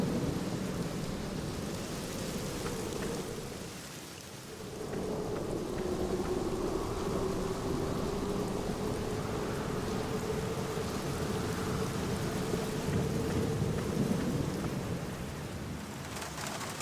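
Steady rain pours over a stormy night scene in the horror point-and-click adventure game The Black Mirror, with a deep rolling rumble of thunder swelling beneath the downpour and a brief lull near the start.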